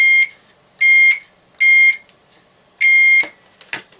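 A multimeter continuity tester beeps as probes touch guitar potentiometer lugs and the casing, four sharp electronic tones in an uneven series, loud and clear, followed by a few faint clicks.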